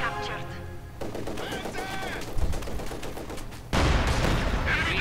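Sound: gunfire in a WWII strategy video game

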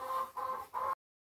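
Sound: homestead chickens clucking

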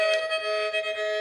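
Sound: toy playing a song, supposedly Cotton Eye Joe, at low volume

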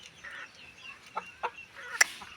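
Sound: chickens clucking

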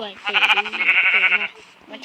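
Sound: sheep bleating in a Minecraft-like video game

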